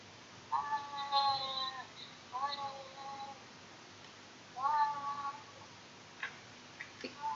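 Cartoon cat meows from the Bioxd.io browser game, three short harmonic mewing calls in sequence, fairly clear against a quiet game background with a few small ticks near the end.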